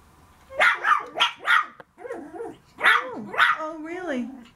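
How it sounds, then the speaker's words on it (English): Excited parti-colored Yorkie puppies bark in a rapid string of high, yappy barks, close by, with a few whiny growling yips toward the end and a voice speaking between them. "Who's barking at me? Who's barking at me?"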